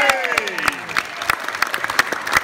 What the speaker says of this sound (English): So give yourselves a cheer.